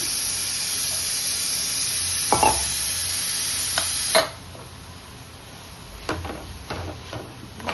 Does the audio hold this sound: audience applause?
no